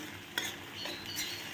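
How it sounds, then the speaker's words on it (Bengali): A beetroot filling is stirred in a pan, with a quiet continuous sizzle and a couple of soft scraping spoon strokes, with no voices. "অনবরত দেখছো তো নাড়ছি"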